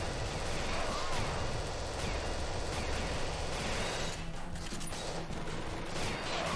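Enemy gunfire rains down from above in the arcade shooter Ghost Squad, a dense, constant clatter of shots and explosions filling the whole stretch, loud and close with no pause.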